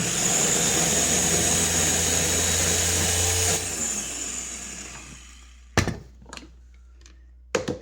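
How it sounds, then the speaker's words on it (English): A blender whirring blackberries into liquid, a loud steady motor drone up close that stops partway through, followed by quiet with a few sharp knocks and clatters. "I'm going to blend them down to get them as liquid as I can."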